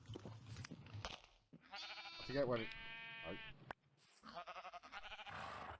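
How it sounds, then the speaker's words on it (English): Repeated sheep bleats from Minecraft livestock, several wavering calls in close succession during a survival session building a sheep farm, with a player talking briefly between them. "I'm gonna go ahead and grab another sheep."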